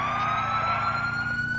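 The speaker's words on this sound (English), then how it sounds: "Oh, the sirens are getting farther away." Police sirens wail continuously in a patrol video game, a steady rising electronic tone sustained at high volume throughout, loud and close with no pauses or voices.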